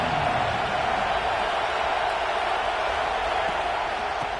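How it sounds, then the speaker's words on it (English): A stadium crowd in the college football video game NCAA 26 gives a loud welcome to the visiting team, a steady, dense roar of cheering that holds at one level throughout. "This crowd bringing an ear-splitting welcome to their visitors."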